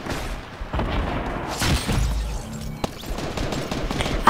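Gunshots in a Team Rumble video game match, a flurry of sharp shots and booms at mid distance, rattling in quick clusters with game ambience.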